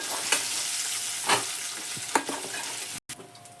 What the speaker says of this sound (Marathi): आणि वरतून आता हे वांगी सोडतो आपण हे पूर्ण परतून घ्यायचे